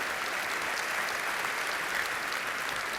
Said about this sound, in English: One more round of applause for the Nice Opera Choir.